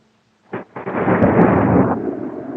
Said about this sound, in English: Ain't gonna get rained out by no thunderstorm.